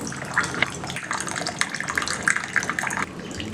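Water is poured into a tea filter, giving a close, continuous splashing trickle with small bursts and gurgles over a few seconds, without any speech.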